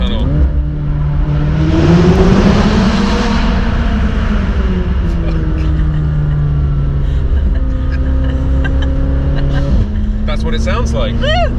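A McLaren 570S Spider, roof down, starts up and its engine settles into a loud, steady running note, rising briefly early on before holding a smooth drone; talk is heard over it.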